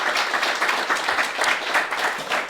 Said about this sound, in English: So can we just have a massive round of applause, please?